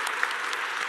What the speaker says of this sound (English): an applause to that